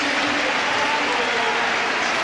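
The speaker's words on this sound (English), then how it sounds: "A capacity crowd at one of the oldest stadia in Great Britain" A capacity crowd roars and applauds at an old stadium in North London for Arsenal against Manchester United in the 1999-2000 Premier League, a dense, continuous wash of cheering and clapping.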